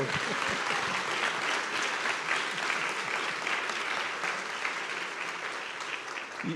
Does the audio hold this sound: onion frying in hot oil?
no